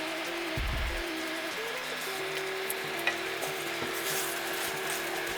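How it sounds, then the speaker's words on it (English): Ingredients for a British-style Rogan Josh curry, with dried curry leaves, get stirred in a frying pan, giving a steady sizzle and frying hiss with soft scraping from the spoon, close and continuous. "And give everything a good stir."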